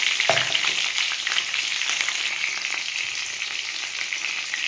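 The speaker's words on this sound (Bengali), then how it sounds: "বেগুনটা ভেজে নেব।" Brinjal frying in hot oil with a little turmeric and salt, a steady loud sizzle and crackle running throughout with a few brief clinks near the start.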